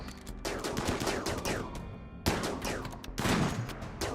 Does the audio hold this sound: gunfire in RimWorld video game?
yes